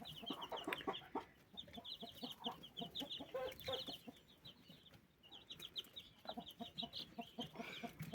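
Four-day-old chicks and broody hens cluck and peep in a coop, a busy, fairly quiet chorus of short clucks mixed with thin, rapid high cheeping throughout.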